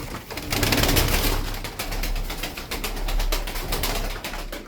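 Pigeons kept as pairs in a loft coo steadily and close by, a continuous low throaty burble with scattered bird calls and no talking.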